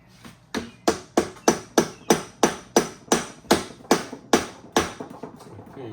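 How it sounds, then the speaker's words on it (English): A hammer strikes metal about thirteen times to split the overdrive from the gearbox of a 1962 Triumph TR4 with a stuck clutch, in sharp, ringing, evenly paced blows that come slightly faster after the first few. "I'm gonna hammer here"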